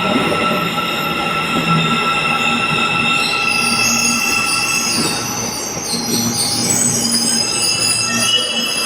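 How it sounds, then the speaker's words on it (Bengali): A Soviet-built metro train pulls into a station in Kazakhstan, a steady rolling rumble with high wheel squeal and rail clatter building, close and loud throughout with no speech. "আর একটা ওই পাশে মেট্রো আসছে"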